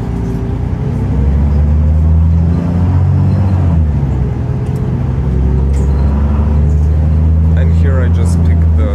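Irisbus Citelis city bus riding through Ljubljana, its engine giving a steady low drone with rising and falling pitch as it pulls away and cruises, rumbling throughout with some road noise on top.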